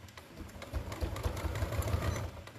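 A sewing machine stitches along the edge of a woven basket, a quiet, rapid mechanical rattle that runs steadily for a couple of seconds with no talking over it.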